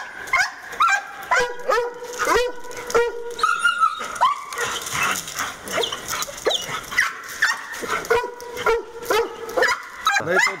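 Four dogs in a kennel enclosure, German shorthaired pointers and German shepherds, bark, yip and whine loudly and close in repeated excited bursts throughout.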